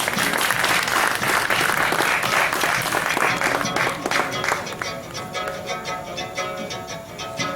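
Audience at a spoken-word performance gives a sustained round of applause, dense at first and then easing into looser, more distinct claps as it tapers.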